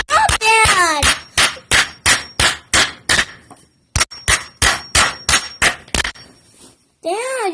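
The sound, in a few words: hammering nails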